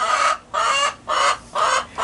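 Chickens cluck loudly in four distinct bursts with short pauses between them, close and clear, with no talking.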